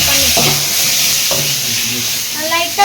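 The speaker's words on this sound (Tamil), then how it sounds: "வானல்ல எண்ணெய் ஊற்றி இந்த 4 கத்திரிக்காவை போட்டு எடுக்க முடியும்" Four brinjals frying in oil in a pan give a steady, close sizzle and hiss, with a couple of brief stirring scrapes mixed in.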